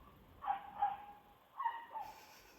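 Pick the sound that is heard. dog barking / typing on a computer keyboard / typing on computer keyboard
dog barking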